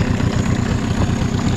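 Small outboard motor on a fast micro boat idling steadily close by, a continuous low rumbling drone with no talk over it.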